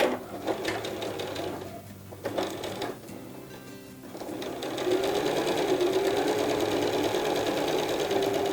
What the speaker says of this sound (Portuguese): agora a gente vai costurar as partes onde tem o verde, alfinetado, um pé de máquina